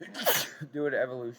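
A single sharp sneeze bursts out up close, followed right away by a person speaking.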